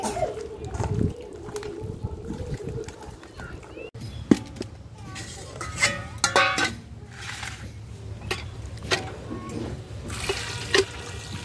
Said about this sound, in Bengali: মাংসটা খুব ভালো করে ধোয়া হয়ে গেছে।